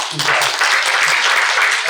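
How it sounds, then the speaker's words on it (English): Audience applause fills an evening awards event at a marketing conference, a steady, dense wash of clapping throughout with a few low voices mixed in underneath. "ladies and gentlemen, good round of applause"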